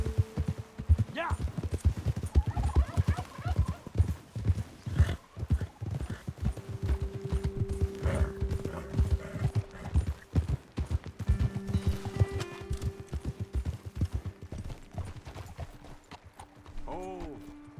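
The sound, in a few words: horses' hooves trotting in Red Dead Redemption 2 video game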